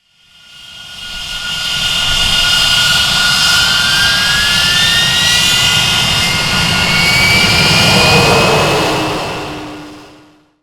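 Avro Vulcan XH558 jet engines running up on the ground, a loud sustained roar with rising whine tones that swells and holds for about ten seconds before easing off.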